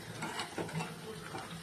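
Sabudana fritters are turned over in hot oil, soft sizzling under light scraping and clicking taps from the utensil, quiet and close with a few irregular knocks.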